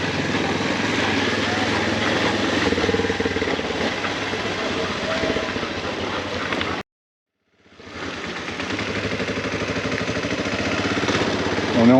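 Motorcycle engine running steadily while riding through a neighbourhood of Antananarivo, Madagascar, a loud continuous drone that cuts out abruptly for about a second midway before resuming at the same level.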